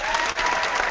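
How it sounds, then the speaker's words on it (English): Canned applause effect: a short, dense burst of studio-audience clapping, even and continuous throughout. "Nothing like canned applause"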